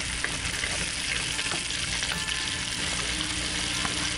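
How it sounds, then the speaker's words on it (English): Wild rabbit pieces sizzle steadily in olive oil inside a Dutch oven cooked outdoors, a dense continuous frying crackle with occasional scraping as they are stirred, no talking. "Stir them around a little bit. So they get coated with some olive oil first,"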